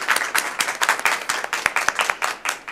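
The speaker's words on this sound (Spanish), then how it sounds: "casi que los invito a que aplaudamos el proyecto y esta culminación" A small group applauds at a Rotary club meeting to celebrate a completed project, giving uneven, fairly close hand claps that come in quick rhythmic bursts for a few seconds.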